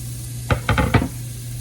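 Minced garlic and a minced shallot sauteing in a pan for risotto, a steady close sizzle with a few quick stirring scrapes and clinks over it, no talking.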